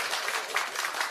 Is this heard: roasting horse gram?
no